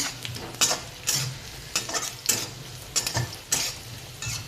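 Browning onion and grated coconut fry in a pan for a spicy brinjal curry, sizzling close while a spatula scrapes and knocks against the pan in regular strokes, without any talk.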